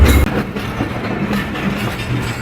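A train at Lahore railway station in Pakistan rumbles steadily with low rolling wheel noise and rail clatter, loud and close throughout, with no talking.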